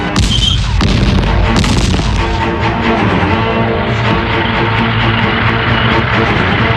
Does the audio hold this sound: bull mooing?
no